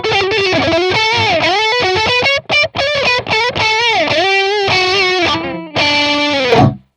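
A Music Man Kaizen 6 electric guitar on a split-coil pickup with distortion plays a fast run of notes with bends, loud and gritty, with a couple of short pauses and a closing sustained note.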